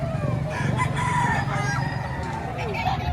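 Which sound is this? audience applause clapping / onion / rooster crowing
rooster crowing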